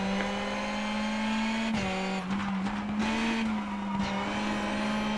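A rally car engine in WRC Generations holds a steady droning note, dipping and surging as the throttle is lifted and reapplied through corners, close and continuous with tyre noise.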